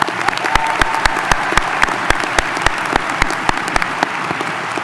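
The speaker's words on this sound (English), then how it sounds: "Please join me in giving this special guest a round of applause." A high school graduation audience applauds at the Class of 2019 ceremony. Loud, sustained clapping fills the hall, with distinct individual claps standing out sharply from the dense wash of hands.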